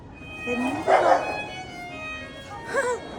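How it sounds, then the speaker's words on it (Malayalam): Two dogs yelp and whine in short rising and falling cries while fighting outdoors in Bruges, Belgium, with a louder burst of snarling, over steady background music played by street musicians. "രണ്ട് പട്ടികള് തമ്മിൽ കടിയാക്കും ഇപ്പൊ."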